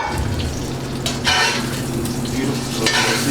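Shallots and garlic frying in a pan over lowered heat give a soft, steady low sizzle, with a few light stirring and utensil scrapes over the top.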